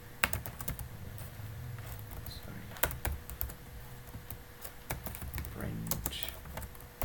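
Python code being typed on a computer keyboard during a programming lesson: a rapid, irregular run of close key clicks with louder strikes scattered throughout, steady background hum underneath.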